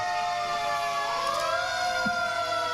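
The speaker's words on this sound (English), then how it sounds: "And with the horns and the sirens." Sirens wail loudly at a Christmas parade in Lafayette, with rising and falling tones layered over one another, continuous throughout.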